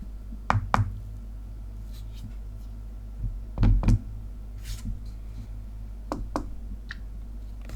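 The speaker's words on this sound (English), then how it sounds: "to take the screenshot, we have to knock on the screen with one knuckle." A knuckle taps a Huawei Nova Y61 phone screen, producing a few short, dull knocks in quick pairs, fairly close and clear over a low background hum.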